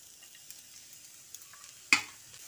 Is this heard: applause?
no